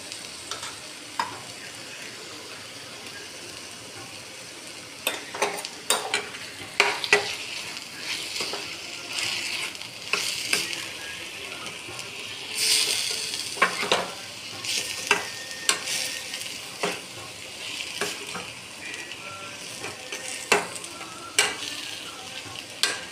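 Ghee hits masala in a pan for veg biryani, and a soft ongoing sizzle comes with frequent sharp scrapes and clinks of stirring, fairly quiet and close, with no voices.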